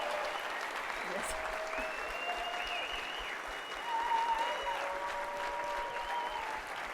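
A conference audience applauds steadily for several seconds, a dense wash of clapping from a large crowd with faint tonal sounds running underneath.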